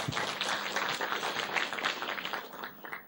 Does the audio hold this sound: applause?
yes